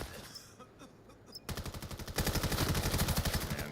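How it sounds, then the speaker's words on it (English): Rapid bursts of automatic gunfire in a long-range firefight in the VR shooter VAIL, sparse shots at first, then loud, sustained rhythmic fire building toward the end. "A little firefight from the long angle as Rise finds a good headshot onto Alta"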